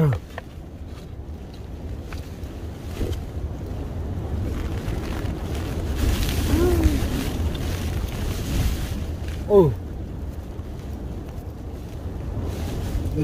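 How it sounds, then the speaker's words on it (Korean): Strong wind gusting on a mountain during rain, a steady broad roar with surges and buffeting against the microphone, and a voice speaking briefly over it. "12시까지는 바람이 좀 엄청나거든요."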